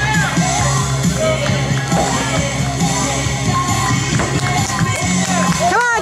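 A crowd yelling and cheering at an outdoor fire truck pull, with continuous loud shouts and whoops of encouragement and voices calling out over one another.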